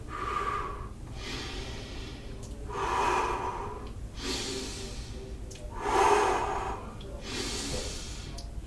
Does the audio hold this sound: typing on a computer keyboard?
no